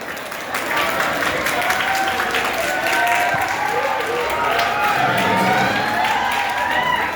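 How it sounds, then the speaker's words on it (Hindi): A crowd at a school foundation day celebration claps loudly and continuously, with cheering and chatter mixed into the dense applause. "जोरदार तालियां।"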